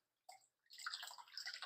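Water pouring and splashing into a 40-gallon breeder aquarium during a water change, a short trickle, then a steady bright splashing stream, close and fairly quiet.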